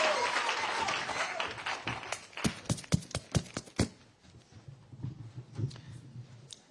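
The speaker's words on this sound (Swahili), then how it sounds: "Pigeni makofi ya kutosha. Makofi, makofi." Applause welcoming the Governor of Machakos at a Kenya Kwanza forum with people living with disabilities: a burst of crowd clapping that thins into a few loud, separate claps, then fades to scattered light taps.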